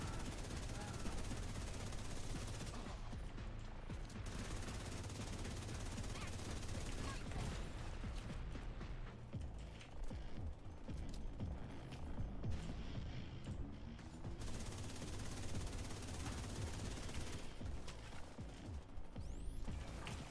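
Dense bursts of rapid automatic gunfire rattle almost without pause through a battle in the video game The Division 2, with people talking over the shooting.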